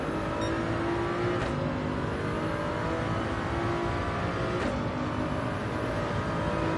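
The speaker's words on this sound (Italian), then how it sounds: "Bel rumorino grezzo, motorino di questa Toyota." Toyota race car engine in Gran Turismo 7 on the Nürburgring, a steady rough drone that holds loud and continuous for the whole stretch, with no one talking over it.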